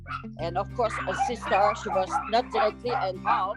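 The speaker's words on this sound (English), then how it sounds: "Sorry for the dogs, they're just going crazy." Several dogs bark and yip excitedly and repeatedly in the background while a person talks over them.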